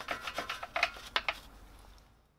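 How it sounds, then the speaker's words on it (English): A long reach brush scrubs a brake caliper, producing close, dry bristle rubs in a quick run of strokes that fade out toward the end. "then reach for the Viken Long Reach Brush Duo"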